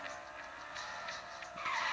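A Ferrari skids in a racing video game, giving a continuous tire squeal over engine noise that swells louder toward the end.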